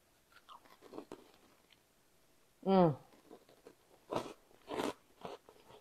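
Freeze-dried salt water taffy crunches when bitten: a few sharp, crisp bites close to the mouth, followed by soft chewing and crackling with a little breathy speech around it.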